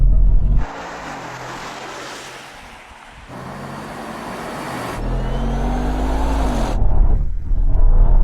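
A Tesla Cybertruck, a Rolls-Royce Cullinan and a new Mercedes-AMG G63 launch from a drag race start. Loud engine noise climbs steadily with rising revs and shifts through gears, heard from inside a cabin.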